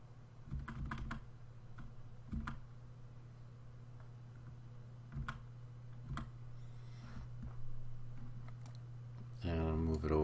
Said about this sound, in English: I'm going to use the arrow keys.